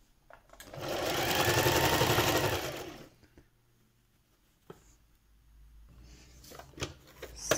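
A home sewing machine stitches through a small fabric My Little Pony G5 hoof piece for Izzy Moonbow, running in one steady burst of about two seconds and then stopping, followed by faint handling clicks.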